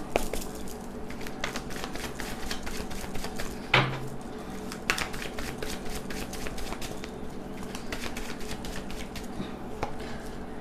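Tarot cards are shuffled and drawn, giving rapid crisp flicks and riffling patters with one louder slap partway through, close up and fairly quiet.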